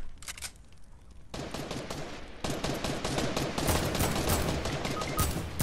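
Rapid bursts of assault rifle fire in the Fortnite video game ring out in dense, overlapping volleys, loud and close, growing heavier and nearly continuous toward the end with no talk over them.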